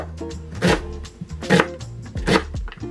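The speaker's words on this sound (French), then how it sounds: "je prépare mon oignon. Indispensable les oignons, on est d'accord. Je les mince grossièrement avant de le faire dorer" A knife coarsely chops an onion on a board, three firm close cuts spaced evenly about a second apart.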